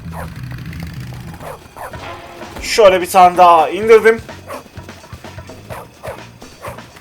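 Dog barking in the Bully video game, a burst of loud, harmonic yelps and barks in the middle amid game sounds, with someone speaking over it.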